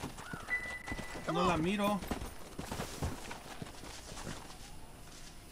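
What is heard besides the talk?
horse hooves and whinny in the video game Red Dead Redemption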